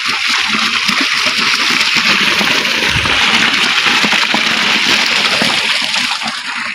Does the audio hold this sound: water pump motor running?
yes